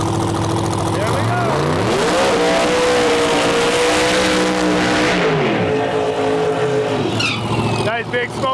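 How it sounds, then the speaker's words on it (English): Turbo LS Mustang doing a smoky burnout at a no-prep drag race, engine revving hard with rising and falling pitch and tire squeal, loud and close for several seconds, crowd noise and commentary over it. "Nice big smoky burnout."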